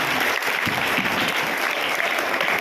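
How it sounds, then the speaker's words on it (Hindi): Loud, dense applause from an audience at a public ceremony for a legislator, steady and unbroken through the whole stretch with no voices standing out. "बार फिर से जोरदार तालियां।"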